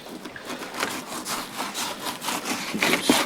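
A walleye fish cut on a wooden cutting board, a rhythmic rasping, sawing stroke repeated steadily at close range.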